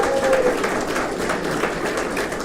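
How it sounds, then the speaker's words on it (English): An audience at a live RTX 2015 convention panel applauds in a dense, continuous wash of clapping that holds steady for a couple of seconds. "Round of applause for Xanther."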